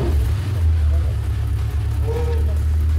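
A Mercedes C63 AMG engine runs nearby with a deep, steady, low rumble that stays even throughout, while people talk over it.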